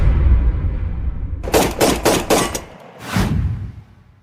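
Gunfire in an audio drama about a sniper: a rapid burst of about five sharp, loud shots, a brief pause, then one more shot, with a low rumbling ambience underneath.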